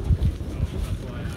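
Low, blustery wind buffets the microphone in a steady rumble while hiking the Appalachian Trail in the Smoky Mountains, with a muffled voice faintly underneath.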